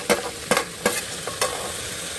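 Chopped tomatoes stirred into an oiled pan of frying vegetables for vegetable biryani, with a few sharp scraping stirs over a faint continuous sizzle, close and moderately quiet.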